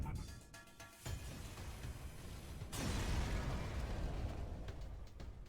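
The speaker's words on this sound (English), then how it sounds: "the slave ship is destroyed." A slave ship blows up in FTL with a burst and a rumbling boom that swells partway through and then fades, set among game effects.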